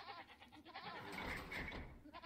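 Goat bleating from the video game Age of Empires II, a quavering wavering cry that carries through most of the moment, moderately loud and alone.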